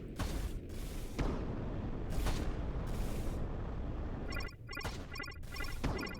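A torpedo is fired in the combat game A-Spec First Assault, with a series of loud, broad booming blasts and rushing bursts over a dense, rumbling battle din.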